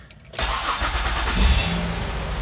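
A car engine cranks briefly and catches, then settles into a steady running idle with a slight rev, heard up close after a quiet moment.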